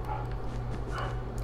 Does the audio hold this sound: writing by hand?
no